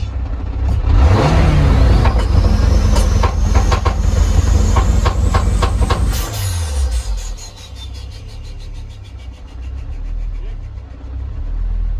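Turbocharged 1.8T engine swapped into a Mk3 Toyota MR2 running anti-lag, loud and close, with a heavy engine roar, sharp popping bangs and a fading rev sweep, while a voice talks.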